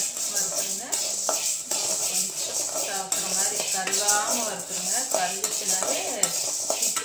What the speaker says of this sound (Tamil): இப்போ நான் வந்து ஒரு கப்பு உளுந்து போடுறேன். நல்லா ஸ்டவ்க்க வறுத்துறலாம்.